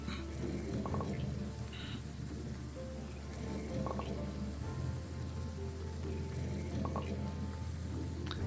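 Steady rain falls in the video game Graveyard Keeper, a continuous broadband patter heard throughout, with a few faint game chimes and soft tones mixed in.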